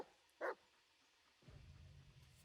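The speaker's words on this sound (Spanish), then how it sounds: "Escucha los ladridos y observa su lenguaje corporal." A dog in the Blair Witch video game gives a single short, sharp bark, faint and brief, followed by low rumbling ambience.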